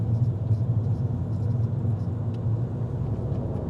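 Car engine rumbling steadily up a motorway slip road, a low continuous drone with road noise, close and even throughout, no talk over it.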